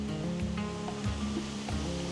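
Powerful rushing water throwing off spray in the Lake District, a continuous roaring, hissing torrent close by, with deeper rumbling surges every second or so.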